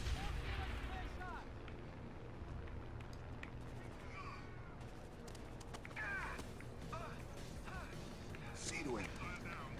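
Frag grenade blast and gunfire in the video game Rainbow Six Vegas 2, a run of sharp cracks and booms over a dense rumbling bed, with voices talking underneath.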